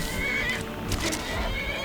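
A horse in the game Skyrim gives a loud, close whinny while fighting a skeleton, a brief neigh rising over low rumbling ambience and scuffling combat noise.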